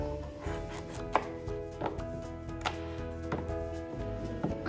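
A knife chops through a butternut pumpkin on a board with repeated crisp cuts at an uneven steady pace, close by and fairly quiet, with no talking.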